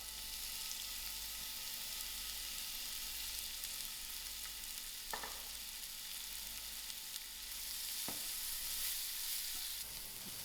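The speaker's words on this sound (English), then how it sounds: "To my same oil, I'm going to add in my onions to fry out." Onions frying steadily in oil in a pan, giving a continuous broadband sizzle with a few brief stirring knocks, close and clear with no talking, for a creamy chicken with spinach and mushrooms dish.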